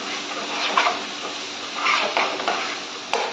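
A spoon stirs prawn curry with tomato in a pan, soft scraping and sizzling with several louder knocks against the metal, close and steady.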